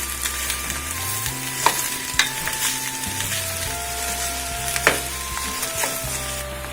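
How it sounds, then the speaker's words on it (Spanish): Onion fries over medium heat in a pan for onion tinga, a loud continuous sizzle with occasional sharp clacks and scrapes as it is stirred constantly, and a low hum running underneath. "La tenemos que freír a que quede transparente, no que se nos queme"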